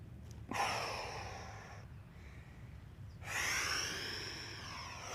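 Deep breathing during piriformis push-ups: two long, close breaths, a sharp inhale followed later by a heavy exhale, with quiet room tone in between.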